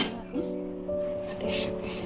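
Lid set over a dish of ground leaf paste in a home kitchen, giving a couple of light metallic clinks and a brief scrape, close by, with someone talking in the background.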